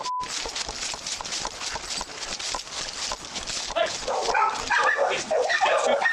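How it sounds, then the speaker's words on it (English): Dogs bark repeatedly in a residential backyard, with sharp yips and whimpers rising toward the end amid rustling movement and voices nearby. "together they rush toward the sounds of barking coming from the backyard"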